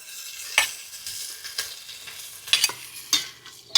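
Pre-fried prawns are stirred in a hot pan for prawn pulao, a spatula scraping in repeated irregular strokes over a soft, steady sizzle, close and clear with no voices.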